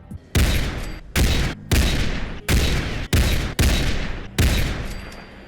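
Sniper rifle gunfire in Fallout 4, seven loud, separate shots spaced roughly a second apart, each a sharp crack that decays with a reverberant tail.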